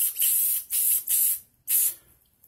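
Rust-Oleum spray paint hisses from a can in short bursts during a cabinet repair, with four close, loud sprays separated by brief pauses and the last burst fading out.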